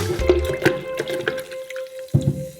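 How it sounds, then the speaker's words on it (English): Homemade kombucha drink being stirred, with wet sloshing and dripping sounds, a few distinct splashes close by over a faint steady hum. "Now stir it up."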